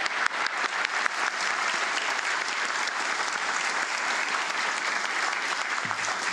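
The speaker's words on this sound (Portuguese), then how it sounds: "pedindo uma salva de palmas para todos vocês" A dense, continuous round of audience applause fills a factory inauguration ceremony attended by President Lula, many hands clapping together at a steady, loud level for several seconds.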